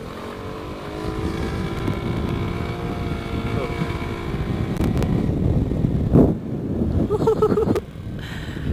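A steady motorcycle racing exhaust drones with a humming engine tone, mixed with buffeting wind noise, then briefly swells and cuts back.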